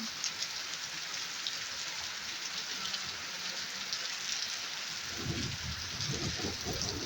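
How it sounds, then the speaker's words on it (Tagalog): Steady heavy rain pours down on a village in Pakistan with a dense hiss, and low rumbling patter thickens toward the end. "Patak ng ulan, malakas ang ulan, malamig ang panahon."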